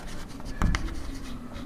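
Pen writing on paper while a long-division remainder is noted down in a Class X real numbers maths lesson, heard as a brief, close scratchy stroke alone.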